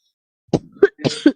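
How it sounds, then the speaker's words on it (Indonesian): A man coughs a few times at a forum microphone, four short, sharp bursts spaced closely together, loud and near with no talk around them. "Batuk aku."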